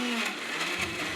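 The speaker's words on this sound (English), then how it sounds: "Take a packet of any store-bought paneer and grind it in a mixer." A mixer grinder whirs steadily while blending store-bought paneer with a little curd into a smooth frosting base, a dense continuous motor drone that runs loud and unbroken for the whole short burst.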